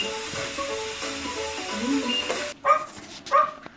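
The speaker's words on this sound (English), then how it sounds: "It's a dog." A dog heard in a guess-the-sound game, with a few close barks and whimpering yips over faint background, ending in two sharp louder barks.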